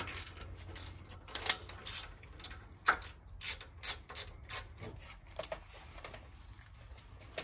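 Ratchet loosening 21 mm brake caliper bolts on a 2016 RAM 1500 during a rear pad and rotor change, a series of quick clicking ratchet strokes in uneven bursts, close and alone.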